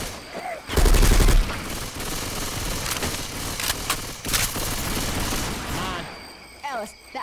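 Rapid gunfire from survivors fighting zombies in Left 4 Dead 2, with a dense burst of automatic fire followed by repeated shots and bangs, loud and continuous, while several voices shout over the action.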